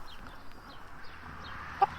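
Chickens cluck softly in a farmyard, with a few low, intermittent clucks and one brief, sharper call near the end.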